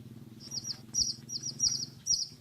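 Small songbirds, including green and metallic-coloured males, are released outdoors and give short, high chirps about five times in quick succession. The calls are moderately loud over a low background hum.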